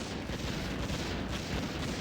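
Warcraft 3 game battle as a defensive tower comes under attack and is destroyed: a steady, dense barrage of booming impacts and gunfire-like blasts rolling continuously without pause.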